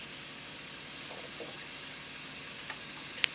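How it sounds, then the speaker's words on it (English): Onions dropped into a hot pot sizzle with a steady, soft hiss as breakfast and dinner are cooked, faint stirring clinks and a sharp tap near the end, no talking. "Now what I'm going to do is put back to the pot some onions."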